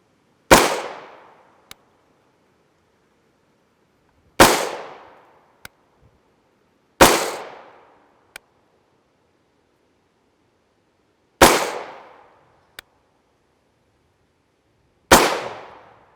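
A CMMG MK57 rifle fires 5.7x28mm rounds in five sharp, evenly spaced shots with quiet gaps between them, each followed by a faint tick.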